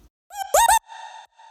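A short pitched vocal sample from Splice, played in Logic's Sampler before any processing, gives a few clean sung syllables with a bright, loud middle burst and brief gaps.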